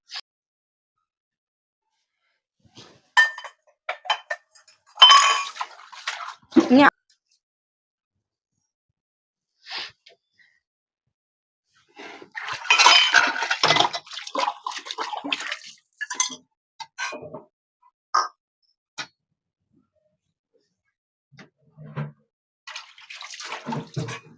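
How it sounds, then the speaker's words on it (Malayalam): Used dishes and tea cups being washed at a home kitchen sink, with short bursts of running and splashing water and the clink of crockery, starting and stopping irregularly with quiet gaps between, close by and without talk. "അപ്പോൾ അതേ നമുക്ക് പാത്രങ്ങളൊക്കെ കഴുകി വെക്കണം ഇപ്പം നമ്മൾ ഉപയോഗിച്ച പാത്രങ്ങളാണ് ചായ ഒഴിച്ച പാത്രങ്ങളൊക്കെ"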